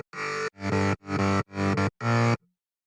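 Synth bass for an emotional progressive house track, heard as five loud, evenly spaced sustained notes with sharp cutoffs, played alone in a steady rhythm.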